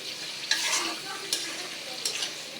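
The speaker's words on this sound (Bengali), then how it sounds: "সুন্দর করে কষিয়ে নেব।" Spice paste for a beef curry with potatoes sizzles steadily in a hot pan while a spoon stirs it, with a continuous frying hiss and a few brief scrapes standing out, close and fairly loud.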